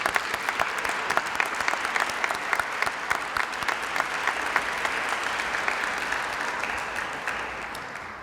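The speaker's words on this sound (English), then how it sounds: "Can we give our speakers one more round of applause?" A graduation ceremony audience claps together in a sustained, dense round of applause that holds steady for several seconds and then gradually tapers off, filling the hall with no voices over it.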